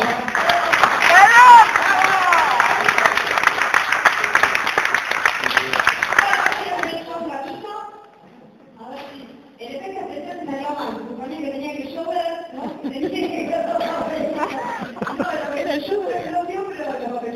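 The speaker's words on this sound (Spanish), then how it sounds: "Quiero pedir un aplauso muy especial para esta pista, que es un amigo, Gastón Lucero." Loud, dense applause from an audience welcoming Gastón Lucero, dropping off after about seven seconds, followed by quieter crowd chatter and scattered sounds.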